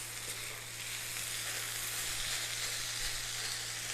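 Keema mixture frying in cooking oil or ghee on a tawa, a continuous close sizzle with a faint underlying hum, no voices.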